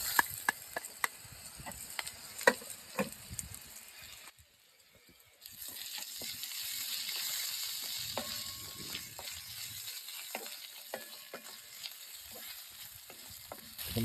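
Chicken kosha frying with ginger and garlic at a campsite, soft sizzling broken by scattered clicks and stirring knocks, with a brief quiet gap midway; fairly faint and without talk.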